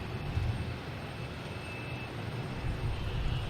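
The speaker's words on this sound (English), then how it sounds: "We got JetBlue up next. Heading to San Juan on an Airbus A321." A JetBlue Airbus A321 airliner at Boston Logan Airport, its jet engines a faint, distant, steady rumble with a low throbbing undertone and no voices.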